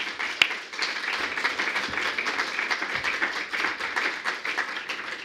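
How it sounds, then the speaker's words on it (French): Warm audience applause at a Sciences Po alumni talk with two authors, a steady wash of many hands clapping close by, one sharp clap standing out near the start, continuing evenly throughout. "Je crois qu'on peut vous applaudir très chaleureusement"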